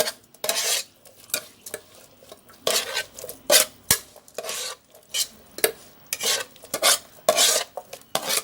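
Minced pork for larb stirred in a pan, with rhythmic spatula scrapes and clacks against the metal in quick bursts over a light sizzle, close and with no voices.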